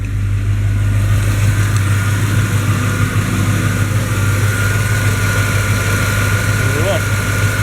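A car engine drones loudly and steadily while the car is driven on a road during a test drive after an air-conditioning repair.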